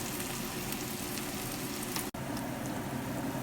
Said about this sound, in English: cook until the tomato gets soft